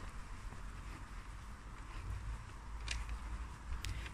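Cold wind blows outdoors in a steady rushing roar against the microphone, with low rumbling gusts and a few faint higher noises, no voices.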